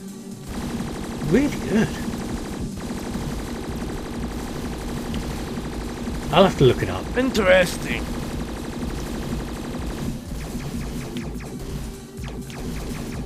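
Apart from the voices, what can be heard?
shooting sound effect from a Sony PSP shooter video game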